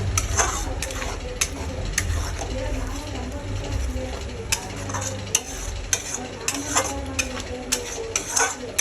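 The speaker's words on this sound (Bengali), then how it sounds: "যতক্ষণ না এটা আমার তেল ছেড়ে দিচ্ছে মশলার থেকে, ততক্ষণ আমি এটাকে কষাতে থাকবো" Spice paste for chicken kofta stirred and fried in hot oil, a steady close sizzle with frequent spatula scrapes and clicks against the pan, and a faint voice in the background.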